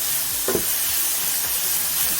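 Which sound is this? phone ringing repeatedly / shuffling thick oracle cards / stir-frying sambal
stir-frying sambal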